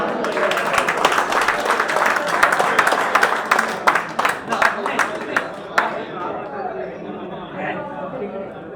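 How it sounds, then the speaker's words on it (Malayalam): A crowd applauds at a tournament prize ceremony in Palakkad, 2024, with sharp, dense clapping and chatter that thins out after a few seconds into scattered claps and murmuring. "എല്ലാവരും ക്ലാപ്പ് അടിച്ച് വിജയിപ്പിക്കുക."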